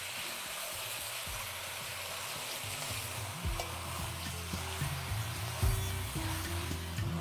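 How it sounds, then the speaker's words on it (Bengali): Marinated chicken sizzles in a hot pan over high flame while being stirred, a steady frying hiss broken by repeated spoon scrapes and knocks against the pan, fairly close and without speech. "আর চিকেনটা দেওয়ার পরে ফ্লেমটাকে হাই করে এটাকে ভালো করে আপনাদের মিশিয়ে নিতে হবে"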